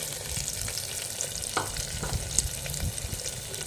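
Toor dal fries with curry leaves and onion in a pan, giving a steady, close sizzle with scattered scrapes and clicks as the mixture is stirred, and no voices.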